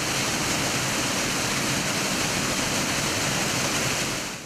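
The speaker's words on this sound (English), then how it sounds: "we've got a waterfall which originates from Rwenzori Mountains" A waterfall fed from the Rwenzori Mountains in western Uganda roars loudly and steadily, a dense continuous rush of falling water heard up close with no voices.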